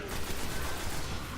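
Continuous rattling gunfire from the Destiny video game, a dense sustained burst filling the whole moment with loud, noisy crackle.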